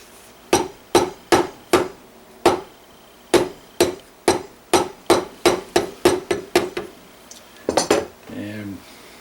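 Metal gun trigger plate being fitted back into a firearm at a gunsmith's bench, heard as a run of about seventeen sharp, close metallic taps in an uneven rhythm, followed by a brief voice at the end.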